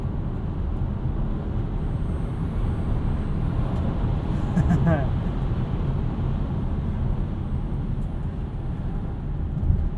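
A 2021 Tesla Model Y Standard Range RWD electric crossover drives on the road, giving a steady, fairly loud broadband rumble of road and tire noise through the cabin, with a brief swell midway and no distinct engine note.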